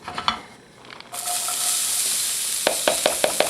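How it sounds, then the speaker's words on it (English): Onions hitting a hot pan for chicken marsala, a few soft clatters and then a sudden loud sizzle that holds steady, with sharp utensil taps and scrapes near the end, close up and without talk. "saute our onions"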